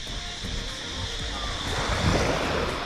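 Waves wash steadily onto a rocky beach on an island off Phuket, a continuous surging roar with gusts of wind buffeting the microphone throughout.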